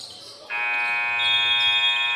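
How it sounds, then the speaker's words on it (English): An end-of-quarter buzzer at a city league basketball game blares as a loud, steady electronic tone that starts about half a second in and holds unbroken to the end. "The buzzer sounds."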